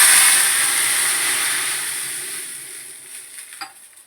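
Sauce goes into a sizzling tempering in a pan for vagharelo rotlo, a loud hiss at the start that gradually fades, followed by a brief scrape near the end.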